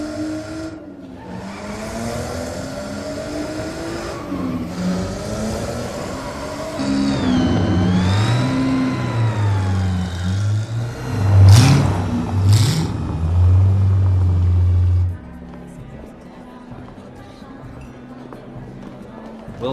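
A car engine revs and roars as it is driven off, rising and surging loudly midway with tire noise, then cutting back as people talk over parts of it.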